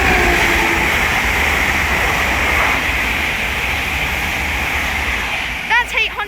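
Class 800 and 801 passenger trains running through Welwyn Garden City on the East Coast Main Line, a steady broad rumble and rush of wheels on rail sustained throughout, with brief speech near the end.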